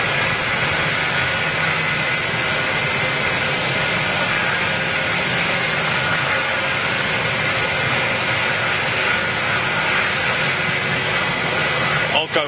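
Jet airliner at Hamburg Airport, its steady engine roar filling the whole stretch without letup, with people talking over it.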